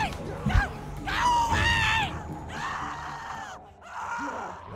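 A wounded woman screams in agony in The Walking Dead game, with several long anguished wails in close succession, loud and near, over a dim rumbling backdrop.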